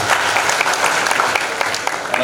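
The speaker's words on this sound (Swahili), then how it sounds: "Naomba mjipigie makofi." An indoor audience gathered for a youth officer's event claps together in loud, dense, sustained applause, with many overlapping hand claps forming a steady crackling wash that continues right to the end.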